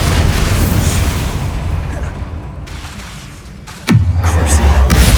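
A Bombarda blast spell in Hogwarts Legacy bursts with a sudden loud boom amid a dense, continuous roar of combat noise, followed by a sustained rumbling wash.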